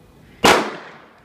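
A single sharp gunshot from a custom slab-side monolithic 1911 pistol with a brand-new barrel and extended dust cover cracks out loud and close, then decays quickly into quiet.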